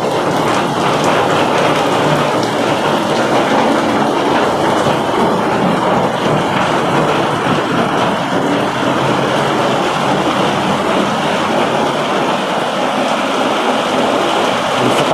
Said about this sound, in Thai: ไม่ได้เผื่อไว้เลยว่ามีฝนจะตก